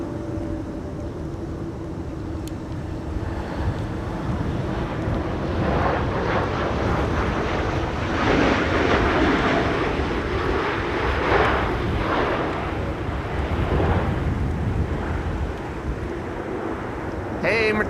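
Malta Air airliner flying for Ryanair passes at Amsterdam Schiphol during a storm, its broad engine roar swelling and fading over steady wind noise.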